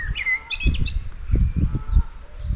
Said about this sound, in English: I can hear a lot of bird noise coming around there.